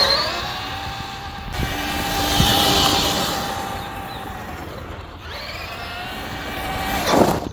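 Cross RC EMO JT4 RC truck running in second gear, its electric motor whining steadily and rising and falling in pitch as it speeds past, loud and close.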